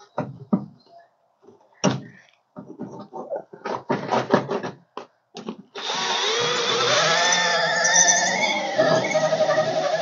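Power drill working inside the cab of a 1976 Ford Super Duty: a few short knocks and taps first, then a steady, loud, continuous whirring drill run lasting several seconds, close by, with no talking.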